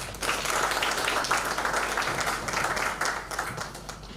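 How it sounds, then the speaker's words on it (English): Sustained applause from an audience at a graduation ceremony for a management course, steady dense clapping filling the hall for about four seconds with no talk over it. "Another round of applause, please."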